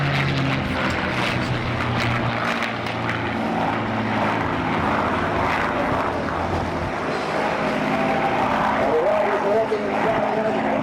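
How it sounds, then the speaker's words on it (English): A P-51 Mustang propeller fighter flies at an airshow, its steady, loud engine drone filling the whole stretch with a slight shift in pitch near the end, while a commentator talks over it. "First in Alistair Kay in the P51 Mustang."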